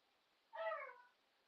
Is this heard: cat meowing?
yes